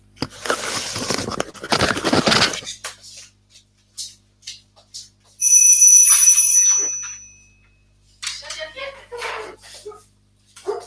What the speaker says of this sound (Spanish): Paren que me están tocando timbre.